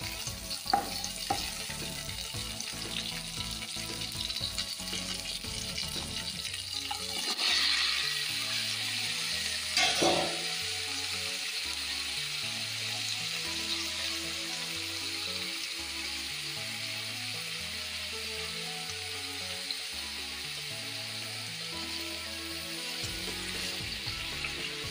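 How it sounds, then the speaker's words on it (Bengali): Broccoli with potato and tomato frying in a kadai, a soft, continuous sizzle with occasional louder stirring scrapes, heard close and fairly quiet with no talk. "ব্রকলি ভাজি"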